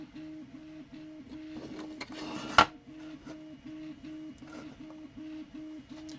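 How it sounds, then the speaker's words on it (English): Close by, a 3D printer runs on its own with a regular repeating pattern of whirring stepper-motor tones and short moves, broken by a brief sharp clatter near the middle. "You may be able to hear the noise in the background. That's the printer running."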